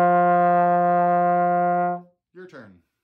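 A single trombone note is held steadily for about two seconds, rich and brassy, then a short spoken word follows after a brief pause.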